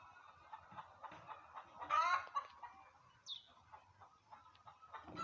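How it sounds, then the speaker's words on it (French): Chickens cluck softly nearby in scattered bursts, one louder squawk rising among them, with no talking. "Voici les poules."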